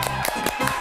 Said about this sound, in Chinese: 大家掌声鼓励鼓励